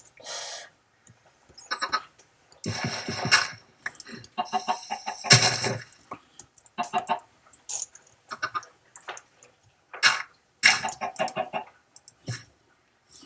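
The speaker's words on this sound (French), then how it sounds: "je vais vérifier comment vont les poules" Chickens cluck repeatedly in the Minecraft video game, short choppy bursts of clucks scattered through the stretch with brief quiet gaps between them.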